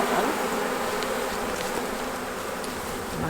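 Honey bees buzzing at a hive, a dense, continuous drone of many insects close by with no pauses.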